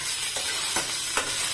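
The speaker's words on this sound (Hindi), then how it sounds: "मैंने थोड़ा सा ही ऑयल लिया है, 2-3 मिनट के लिए फ्राई करूँगी इनको थोड़े से" Onions frying in a small amount of oil for a homemade paneer veg roll, a steady soft sizzle with a few brief stirring scrapes, close and alone.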